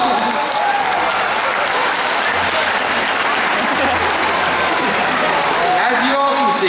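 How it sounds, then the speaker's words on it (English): An audience at a SeaWorld San Antonio killer whale show bursts into loud, sustained applause, with crowd noise all through and a faint voice near the end. "give yourselves a round of applause"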